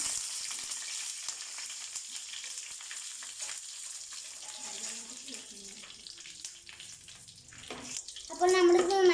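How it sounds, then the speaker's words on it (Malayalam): Dried red chillies fry in hot coconut oil with a steady crackling sizzle that thins out midway, then rises again near the end alongside a brief tonal sound. "അപ്പോൾ അത് ചൂടായിട്ട് വരുമ്പോൾ നമുക്ക് അതിലേക്ക് ഉണക്കമുളക് ഇട്ട് കൊടുക്കാം."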